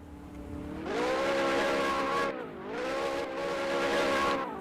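A Ferrari race car spinning donuts at Utah Motorsports Campus, its engine holding a loud sustained note that dips briefly and surges again, with a tire squeal mixed in, heard from a distance with no talk.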